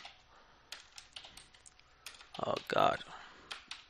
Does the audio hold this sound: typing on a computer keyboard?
yes